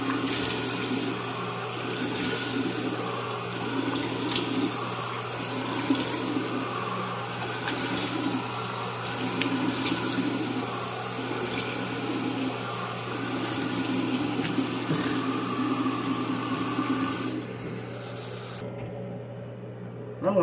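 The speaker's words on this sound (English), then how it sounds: "I'm gonna rinse it off first." Tap water runs steadily into a sink during a morning face rinse, a constant close hiss that carries on for about twenty seconds before cutting off near the end.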